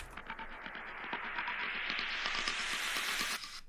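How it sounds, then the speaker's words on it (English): A white noise riser used to build into a music drop sweeps steadily upward in pitch for about three and a half seconds over faint rhythmic pulses, then cuts off abruptly. "it's always good to have some of these to emphasize drops, like this kind of white noise thing"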